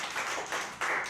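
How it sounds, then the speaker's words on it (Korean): Applause from a church youth group after a closing prayer at a worship service, a short burst of dense clapping from several people that swells and continues without talk. "박수."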